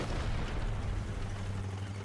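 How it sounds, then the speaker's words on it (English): Continuous distant rumble of tank gunfire and artillery in the video game War Thunder, a dense, steady wash of booms with no single shot standing out. "Now I can hear all kinds of shooting going on. It's kind of hard to tell sometimes if it's artillery or if it's gunfire or what."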